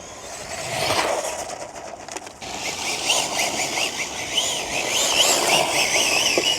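A fast RC car with a gyro driving about, its high-pitched electric motor whining and wavering as it speeds up and slows, with tyre squeal and scuffing over steady background noise.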